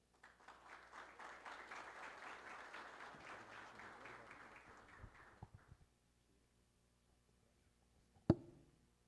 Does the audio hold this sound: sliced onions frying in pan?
no